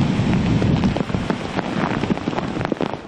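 Heavy typhoon rain pours down in Aurora, Philippines, in a dense, continuous hiss, with scattered louder splatters and drips close by.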